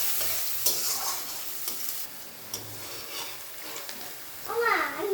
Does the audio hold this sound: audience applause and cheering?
no